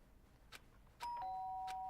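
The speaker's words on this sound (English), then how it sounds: "did I hear the doorbell?" Doorbell in the video game Danganronpa: Trigger Happy Havoc, one clear electronic ding-dong chime that rings on and sustains after a few faint soft taps.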